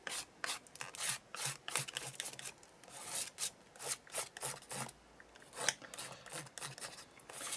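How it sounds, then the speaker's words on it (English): Paint scraped across an art journal page in a series of short, rhythmic rasping strokes, close and fairly quiet, with brief pauses between each pass. "Let's get that scraped on there."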